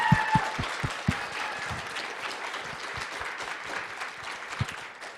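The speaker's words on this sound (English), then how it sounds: "Dr. Sims, can we actually get another round of applause?" Conference audience applauding at the end of a talk, a steady wash of many hands clapping for about five seconds, with a few louder individual claps standing out early on.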